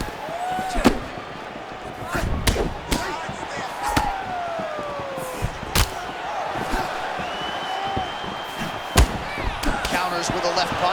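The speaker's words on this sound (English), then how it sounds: "With a left punch." Punches land in an EA Sports UFC video game fight, with several sharp, hard thuds at irregular intervals over a steady arena crowd roar.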